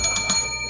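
A bright notification bell sound effect rings out in three quick metallic dings, loud and close, with a shimmering ringing tail that lingers to the end.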